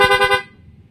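A Yamaha ZX25R motorcycle's aftermarket rapid horn blasts in four quick, loud, close beeps, then cuts off, leaving a low idle rumble.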